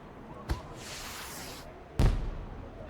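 Fireworks set off in the video game Neverwinter, two sharp bursts about a second and a half apart, the second louder with a crackling tail, over a steady low game-ambience bed.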